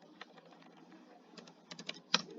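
Code being typed on a computer keyboard, a run of soft, quick key clicks with a few louder strikes near the end, close and alone with no talking.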